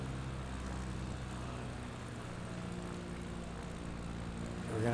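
A CubCrafter propeller plane at reduced throttle in the Microsoft Flight Simulator 2024 video game: a steady, continuous engine drone and cockpit hum that holds even throughout, with no speech.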